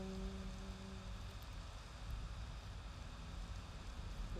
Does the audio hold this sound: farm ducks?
no